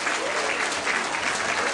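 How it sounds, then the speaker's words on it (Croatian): A crowd applauding a cultural-media society's folk dance performance at a Christmas village event, with even, sustained clapping throughout and no break. "Kako je nagradio ih jednim velikim pljeskom, kulturno-medijsko društvo Log."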